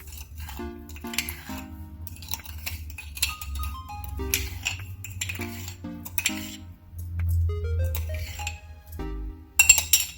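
Two eggs being mixed with sugar in a bowl, a utensil clinking and tapping against the dish in irregular strokes. Light, close scraping sits under bright metallic chimes.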